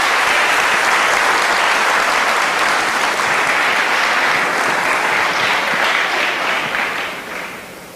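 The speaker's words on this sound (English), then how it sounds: "could you give them a round of applause for me" A school audience applauds debaters from Independence Junior College standing on stage: a loud, dense, steady wash of clapping from a large crowd that holds for several seconds, then fades toward the end.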